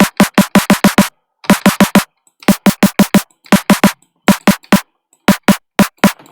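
Synthesized snare drum made in Sytrus, firing in quick bursts of sharp, punchy electronic hits with short pauses between groups, loud and dry with no talk.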